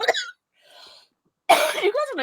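A person coughs during a podcast, with a short harsh burst at the start, a faint breathy sound in between, and a louder, longer cough that trails off into a strained vocal sound.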